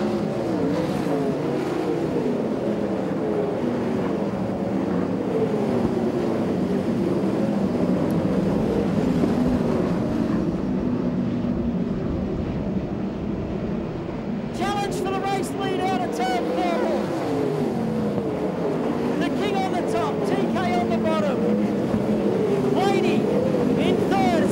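Sprint cars roar around the Valvoline Raceway dirt track during the A-Main of the Scott Darley Sprint Car Classic, engines droning and swelling as a pack passes, with a commentator talking over the noise.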